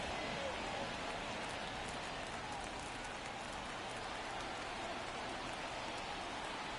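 Steady simulated rain hisses at a ballpark in the baseball video game MLB The Show, a soft, continuous wash of falling drops with no break, faint and even throughout.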